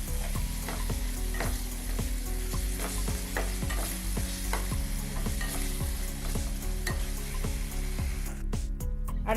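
Red chilli sauce and tomato sauce being stirred in a sizzling pan, with a steady run of spoon scrapes over constant frying hiss, close and continuous with no talk.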